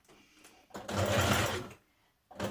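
A domestic sewing machine runs a single steady burst of stitching along the teeth of a zipper on light skirt fabric, loud and close, with quieter handling sounds before and a brief restart at the end.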